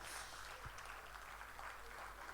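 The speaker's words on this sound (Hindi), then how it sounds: "ज़ोरदार तालियों से स्वागत हो" Steady applause from an audience at a music gathering greets a harmonica player, a former Air India manager, as he comes to the stage; a fairly faint, even wash of clapping with no voices.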